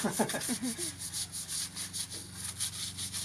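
A brush scrubs a grimy car engine coated with Meguiar's engine cleaner, giving a steady, rhythmic back-and-forth rubbing at close range with no talking.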